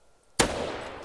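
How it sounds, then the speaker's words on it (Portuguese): A single sharp gunshot in the video game DayZ cracks out loud and close after near silence, its tail ringing briefly before fading. "Levou um tiro e não morreu."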